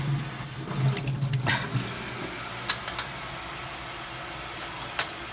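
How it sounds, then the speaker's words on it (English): Tap water runs into a sink while Korean rice cakes for tteokbokki are rinsed. A brief burst of flowing, splashing water at the start gives way to quieter dripping and a few small clatters. "what you do out here actually is you have to rinse it again once in the water"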